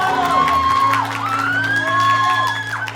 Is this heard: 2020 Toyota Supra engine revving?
no